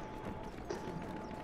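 Horse hooves clip-clop steadily in the League of Legends game, fairly quiet and continuous under a busy game background.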